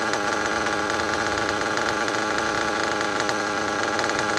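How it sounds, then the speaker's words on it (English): A tuned Pico nitro engine idles on a Triton RC car outdoors on damp grass, giving a continuous buzzy, rattling drone that stays steady and close for the whole stretch. "once you get these Picos tuned, they idle pretty good"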